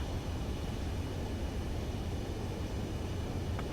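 A steady, fairly quiet broadband jet roar continues as an Ace Combat 7 aircraft approaches to land, with a short blip of game sound at the very end.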